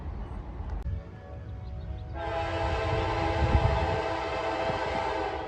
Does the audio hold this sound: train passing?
yes